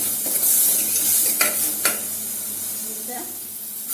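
Onions sautéing toward golden in a pan for chicken roast, a loud bright sizzle with two quick stirring scrapes early on, close and steady, with no talking.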